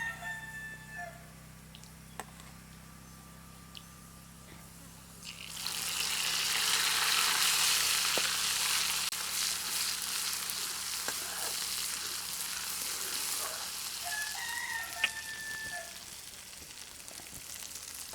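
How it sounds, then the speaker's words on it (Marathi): Onions frying in a pan as masala is added, a soft steady sizzle that rises and stays fairly faint, with a rooster crowing faintly in the background. "कांदा झाला लाल आता आता मसाला टाकतो"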